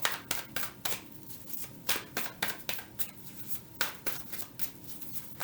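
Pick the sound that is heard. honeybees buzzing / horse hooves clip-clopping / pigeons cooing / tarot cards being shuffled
tarot cards being shuffled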